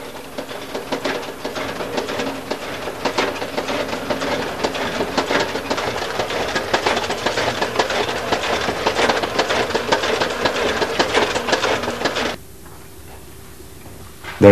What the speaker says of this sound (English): A machine does the same job in a few minutes.